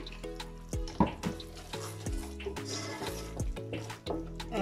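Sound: caramelized mango with chili flakes cooking in pan

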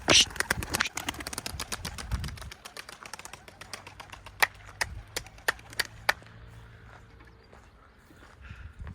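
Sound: young pigeons being flown, wing flaps

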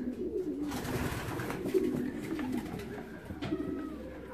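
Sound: racing pigeons at the loft after Olsztyn race

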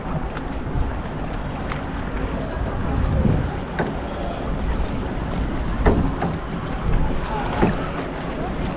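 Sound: paddling a small boat on water

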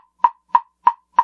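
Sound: plastic wood block struck with gray mallet

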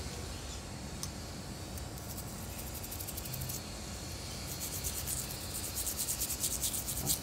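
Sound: scrubbing and cleaning a mechanical watch

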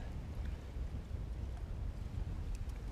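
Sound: strong wind at a lake

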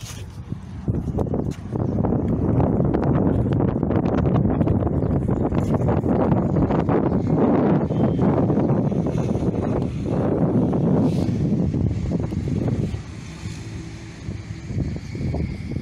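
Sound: wind on a boat deck

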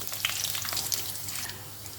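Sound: mustard seeds spluttering in hot oil

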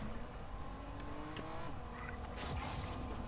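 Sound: car driving in Fortnite video game

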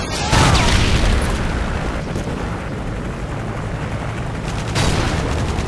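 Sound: Predator missile strike explosion in video game Modern Warfare 2

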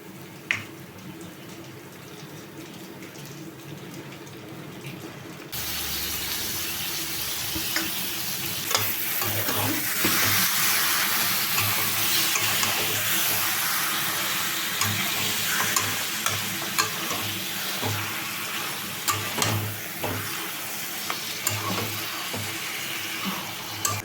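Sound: marinated chicken frying and being stirred in spice paste

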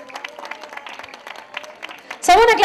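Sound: applause

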